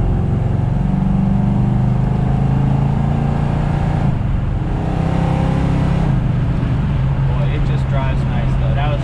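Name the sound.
1970 Plymouth Cuda 340 muscle car engine while driving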